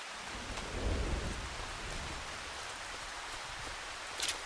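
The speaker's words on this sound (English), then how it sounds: "Yeah, there's the raindrop effect." Steady rain falls in Farming Simulator 25, with a soft patter of raindrops and a low rumble of thunder near the start. A faint crackle comes near the end.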